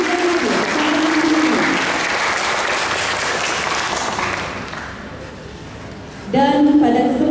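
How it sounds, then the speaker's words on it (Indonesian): Applause for the competition judges at a Balinese gong kebyar contest, the Gianyar regency entry by Sekaa Gong Prabata Semara of Banjar Delod Peken, a broad crowd clap that swells then fades before voices and instruments return near the end. "mohon aplaus yang meriah kepada para juri yang kita hadir"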